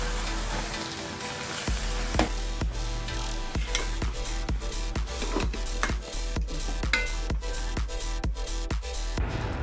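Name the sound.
stirring tapioca and masala in a pan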